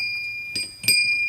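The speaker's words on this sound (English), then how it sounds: "Not much of a bell, but whatever" A small bell rings faintly in a quiet workshop, two brief bright strikes about a third of a second apart, with a thin steady high ringing tone underneath.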